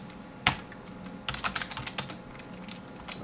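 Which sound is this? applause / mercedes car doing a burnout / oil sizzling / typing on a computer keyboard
typing on a computer keyboard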